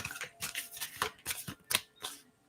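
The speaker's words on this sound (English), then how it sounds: "I will shuffle" Tarot cards being shuffled close up, a series of quick riffling bursts in an uneven rhythm, fairly soft and with no talking.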